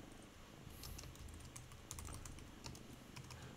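Fast, steady keystrokes from a computer keyboard, close and moderately loud, with irregular sharp clicks over a low background hum in a shared coworking space.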